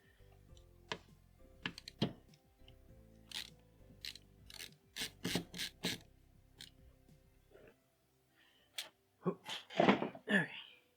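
A screwdriver turns screws during an N64 console teardown, giving close, irregular clicks and ratcheting ticks in quick clusters with short pauses between them.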